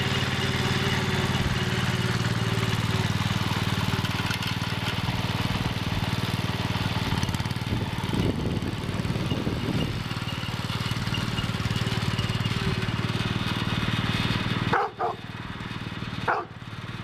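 A John Deere 110 lawn tractor engine runs loud and steady at close range while gears are shifted, with two sharp clunks near the end as the transmission drops into the wrong gear.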